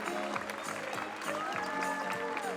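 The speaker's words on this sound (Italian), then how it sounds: "Ve lo facciamo un applauso!" An outdoor crowd applauds volunteer firefighters at an open-day event at the Mirano fire station, soft scattered clapping mixed with background chatter and a faint tone.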